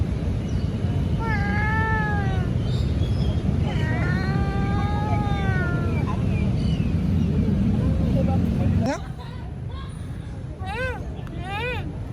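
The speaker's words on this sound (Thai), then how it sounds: "แมวแมวสวนลุมพินีนะ" Cat in Lumpini Park in Bangkok meowing several times with rising and falling cries amid crowd babble and a low engine rumble, then more meows after the background noise drops away.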